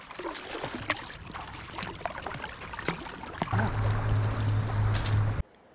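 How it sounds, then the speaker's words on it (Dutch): Boat engine hum and splashing water on a small river ferry crossing the Maas between the Netherlands and Belgium, with a steady low drone growing louder near the end, then stopping abruptly. "we nemen de boot naar België en terug."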